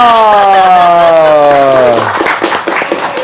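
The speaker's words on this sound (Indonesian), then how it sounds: "Tepuk tangan dong." A loud, drawn-out voice holds for about two seconds, then gives way to a short patch of scattered audience clapping that trails off.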